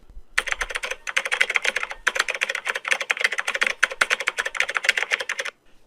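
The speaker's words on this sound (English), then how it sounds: "As Clark was typing away at his story" Rapid typing on a computer keyboard, close and clicky, in bursts with brief pauses and no voices.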